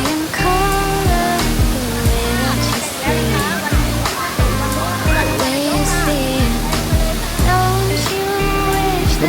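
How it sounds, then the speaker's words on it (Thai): Wang Muang Waterfall in Nakhon Nayok, Thailand, swollen in the rainy season, roars steadily throughout while someone talks loudly over the rushing water. "น้ำตกวังม่วงนะครับสวยงามมากนะครับหน้าฝนนะครับ"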